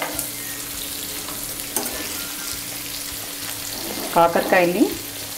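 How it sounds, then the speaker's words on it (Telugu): Stuffed bitter gourds frying in hot oil and being turned over, a steady close sizzle with a brief scrape of a spatula and a short tonal clatter near the end. "ఇలా ఇంకోవైపు వేగేటట్టు అన్ని కాయల్ని తిప్పుకోవాలి"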